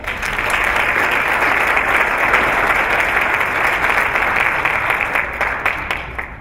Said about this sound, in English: Let's give our technology folks a round of applause